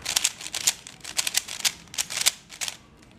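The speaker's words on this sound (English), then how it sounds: "the cube is turning rather quickly, but it's making a lot of noise" Yuxin Zhisheng speed cube turned rapidly, a dense stream of loud clacking clicks in quick bursts with brief pauses, close and untensioned, with no voice.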